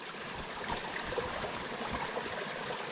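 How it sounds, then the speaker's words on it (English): A stream runs at a quiet spot on an old battlefield, giving a steady, close, even rush and trickle of water with no voices. "you've got to love the sound of running water"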